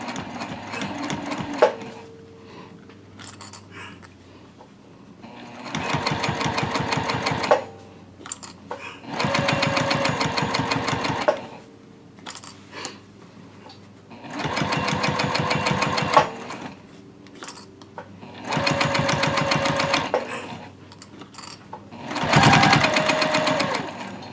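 A sewing machine stitching the gusset of a zip-top tote bag, running in loud rapid bursts of several seconds each, separated by short pauses, close up with no talking.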